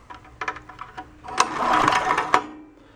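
A small yard-sale Onan generator is pull-started, a few quick rattling recoil tugs followed by a brief sputtering, rough rumble that does not settle into running, close and fairly loud.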